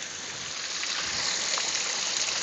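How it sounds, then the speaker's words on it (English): Small brook running near Denny Cove Falls, Tennessee: a steady, close rushing and trickling of water that holds even throughout, with no talking. "this little kind of brook right here that runs down"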